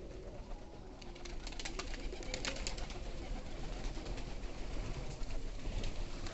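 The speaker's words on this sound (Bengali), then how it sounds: "দেখেন, কবুতরটা খুব সুন্দর ডাকতেছে।" Pigeons coo softly near a pigeon loft as the flock settles after flying, with steady outdoor background noise and no talking throughout.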